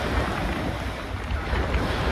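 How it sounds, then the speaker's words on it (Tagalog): Strong sea waves slap and surge around a small tour boat in rough water off Phuket, a loud, continuous wash of surf and spray with heavy wind buffeting the microphone and no clear talk. "Maraming alon talaga. Lumakas na lalo, oh."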